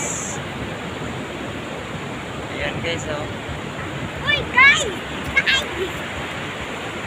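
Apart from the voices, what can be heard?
sea waves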